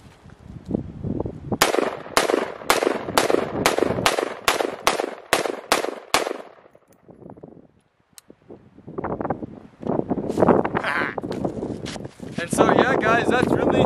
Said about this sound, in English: Let's just fire off the rest of the mag.